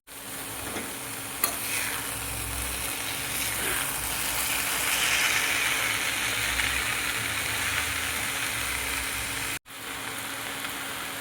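Cabbage fries in a pan with spices including Kashmiri chilli powder, a steady close sizzle with occasional scraping stirs running continuously, briefly cut off near the end before resuming.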